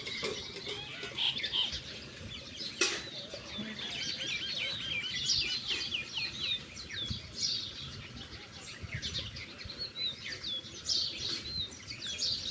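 Pet pigeons bought for 500 rupees, heard as soft, quiet calls and high chirps going on throughout, with occasional wing flutters and a few sharp knocks.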